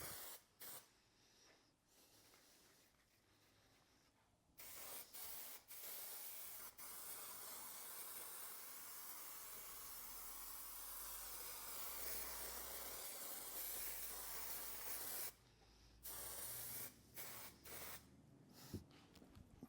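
Spray adhesive hissing steadily from an aerosol can onto a Rover 75 car headliner, long continuous bursts broken by short pauses and brief spurts, close and fairly loud.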